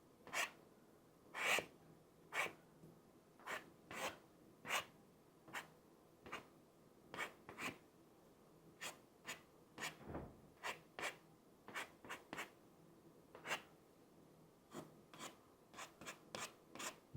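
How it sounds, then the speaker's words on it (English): Dried masking fluid is scraped off watercolor paper during a painting of orange poppies, making short, soft rubbing strokes in an irregular rhythm, close and faint. "when it reaches the stage where I think I can scrape, I might do a little scraping"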